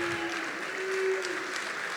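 An athletic awards audience applauding college-bound Westport athletes, steady dense clapping from a crowd in a hall with a faint tone running beneath.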